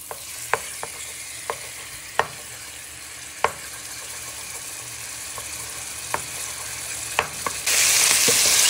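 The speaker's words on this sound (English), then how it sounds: "So as you can see, it's now starting to sizzle." Pork with green chilies, onion and garlic frying in a pan, giving a steady soft sizzle with scattered sharp pops and crackles, getting louder and hissier toward the end.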